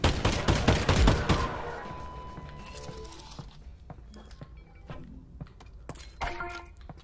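Enemy gunfire in the video game Half-Life: Alyx, a loud burst of rapid shots opening the moment, then scattered metallic clinks and mechanical game effects fading after it.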